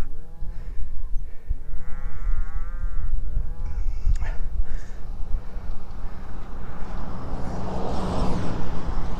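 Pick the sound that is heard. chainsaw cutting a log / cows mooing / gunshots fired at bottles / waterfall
cows mooing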